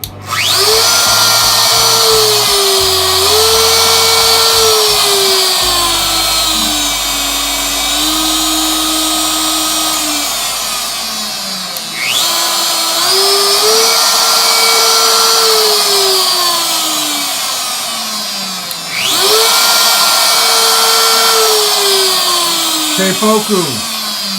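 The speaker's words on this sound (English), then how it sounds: "So we're going to turn the router on and off a few times, mess with the speed" A Shapeoko CNC router spindle whining loudly and close, switched on and off three times with its pitch rising and falling as the speed is changed, under steady background hum.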